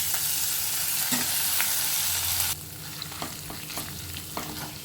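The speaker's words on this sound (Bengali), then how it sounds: "আদাটাকে আমি একটু ভেজে নিলাম" Grated ginger paste frying in oil with bay leaves and whole garam masala for a Bengali potato and pointed gourd dish: loud continuous sizzle with scraping stirs, the hiss dropping in level halfway through as stirring continues.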